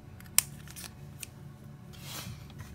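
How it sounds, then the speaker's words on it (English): Scissors snip through a piece of craft paper for a Halloween spider web crayon resist project, a sharp close cut followed by softer paper rustling and a brief swishing trim. "we're going to trim this piece down a bit so I can run it through our die cut machine"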